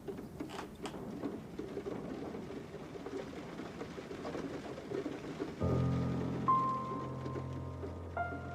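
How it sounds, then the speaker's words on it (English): Steady rain sound effect in a BBC radio drama adaptation of Nineteen Eighty-Four, a soft continuous patter throughout, joined near the end by a low sustained musical tone. "It's starting to rain."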